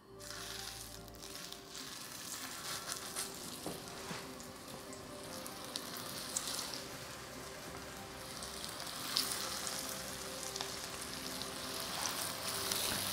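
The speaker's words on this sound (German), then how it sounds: "Dann schmeiße ich jetzt die ersten ins heiße Öl." Vegan zucchini fritters sizzle and crackle steadily in a pan of hot oil, a dense continuous frying hiss with scattered pops, close and even throughout.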